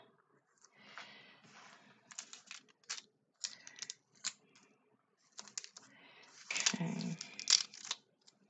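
Paper pieces are torn off by hand for a wedding scrapbook page, giving short close rips and rustles in irregular bursts, with a longer, louder tear near the end.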